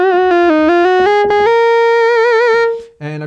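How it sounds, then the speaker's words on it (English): A bright, buzzy Moog Grandmother analog synthesizer lead plays a short stepwise melody, sustaining a note with slight mod-wheel vibrato before cutting off; loud and close, no talking. "I've created this other lead patch"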